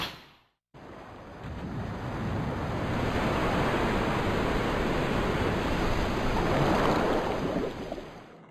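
Steady, even rush of water lapping around floating wooden crates in the survival horror game Resident Evil 2, a broad ocean-like wash that starts after a brief silence and continues unbroken, with no talk.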